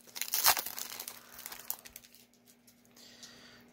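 A Magic: The Gathering booster pack wrapper is ripped open and crinkled close by, a loud tear early on that fades into lighter rustling foil, with a faint steady hum underneath and no speech.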